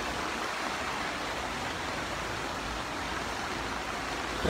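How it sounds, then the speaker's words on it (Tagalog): Floodwater overflowing after a typhoon rushes in a constant, broad, hissing roar, loud and steady throughout with no talk. "yung tubig dito, umaapaw na. Tapos papalapit dito."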